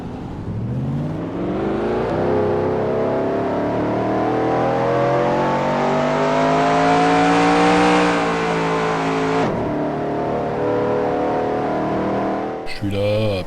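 Race car engine in NASCAR Racing 2003 Season, loud and close, rising steadily in pitch as it revs up over several seconds, briefly dipping, then shifting gear near the end.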